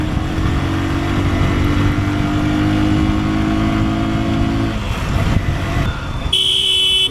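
A Hero Ignitor 125cc motorcycle accelerates through its gears, its engine droning loud and close. The engine note holds steady, then shifts and drops around a gear change before climbing again. No voices.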